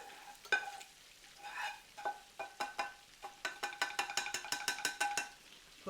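Chicken dinner ingredients get stirred in a frying pan with garlic, a soft sizzle under a run of quick metallic scrapes and clinks from the utensil against the pan, speeding up into a rapid rhythmic series near the end.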